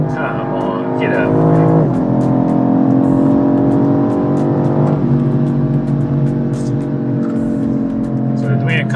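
A BMW M850i Gran Coupe pulls hard on an unlimited autobahn stretch, its engine note climbing loud and close through the gears, with a brief shift dip partway, under steady road and wind roar.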